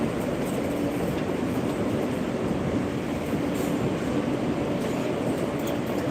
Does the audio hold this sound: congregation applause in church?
no